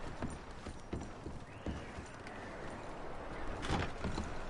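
Horse hooves clop in an irregular patter over a steady, noisy ambient bed in the video game Red Dead Redemption, with a few sharper knocks standing out near the end.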